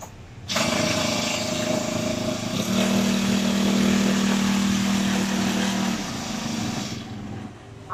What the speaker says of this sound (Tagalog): Ang gandaan po ng grass cutter natin, kahit buong maghapon po gamitin, wala pong problema.